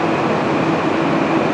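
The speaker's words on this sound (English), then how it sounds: "East Midlands Trains HST to St Pancras. First ever time I've filmed a Valenta engine train" East Midlands Trains HST with a Valenta engine at Nottingham station, giving a steady, loud diesel rumble and drone that holds without a break and without voices.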